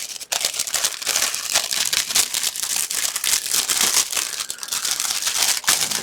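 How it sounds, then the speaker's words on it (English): Crinkly plastic bags around plastic model kit parts are pulled open and handled, giving a dense, continuous close crackling and rustling throughout with no talk. "I'm going to go ahead and take these out of the plastic"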